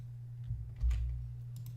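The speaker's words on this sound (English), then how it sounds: "I'm just typing stuff out" Quick clicking keystrokes on a computer keyboard, a short close burst of a few taps with brief pauses between them, no voice heard.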